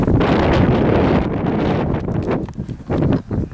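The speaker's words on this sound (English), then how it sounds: "the wind is blowing towards the camera thing" Strong, gusty wind buffeting a camera microphone on an overcast, breezy hillside path on Moel Famau, a loud continuous roar that surges and dips with the gusts, with no voice heard.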